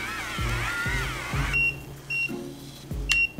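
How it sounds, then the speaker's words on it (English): A viral TikTok hair curler gives three short, faint electronic beeps spaced apart near the end, following a rising and falling warbling tone with a few low thuds, no talking. "I realized I have to wait for the beep."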